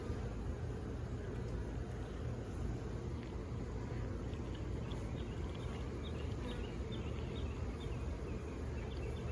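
Honeybees buzzing around an open brood box during a community garden hive inspection, a dense, steady swarm hum that is close and continuous throughout, with no talking.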